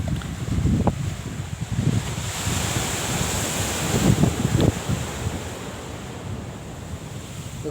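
Ocean waves at Paradip beach wash ashore in a steady low rumble, with several louder surges breaking near the microphone amid gusting wind noise.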